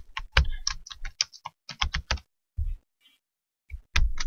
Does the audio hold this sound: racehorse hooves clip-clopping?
no